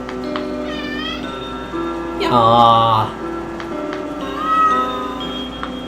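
Cats meow from around a large heater robot in a warm room in the video game OneShot, giving soft chirping cries early on and again near the end, with a louder burst of game sound in the middle. One person briefly reacts in speech.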